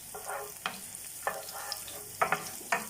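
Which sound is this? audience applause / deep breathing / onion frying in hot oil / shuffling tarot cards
onion frying in hot oil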